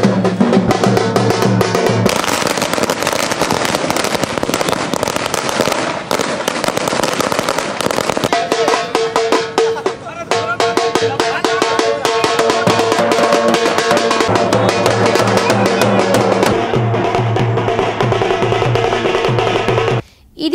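Firecrackers burst at Telangana Chowk as TRS supporters celebrate a chairman's appointment. A dense, loud, continuous crackle of rapid bangs runs for about twenty seconds, with tonal sounds mixed in and no break.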